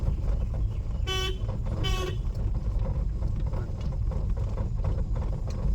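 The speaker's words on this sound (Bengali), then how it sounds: "হর্ন দাও" A learner's car in a narrow lane gives two short horn honks about a second apart, standing out clearly over a steady rumble of engine and road noise.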